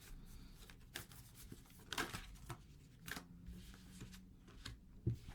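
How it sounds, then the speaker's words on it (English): Oracle cards shuffled and pulled from a deck: a handful of short papery riffles and soft slaps at uneven intervals, close and fairly quiet, with no one talking. "Let's pull some oracle cards to get started with your reading."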